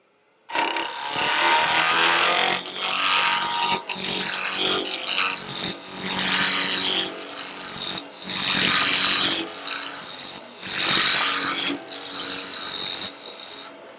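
A woodturning tool rounds a wooden ball on a lathe, making loud, rough scraping and rasping in sustained passes with brief breaks between cuts.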